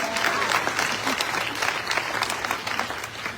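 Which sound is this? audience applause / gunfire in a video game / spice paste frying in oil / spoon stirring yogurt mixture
audience applause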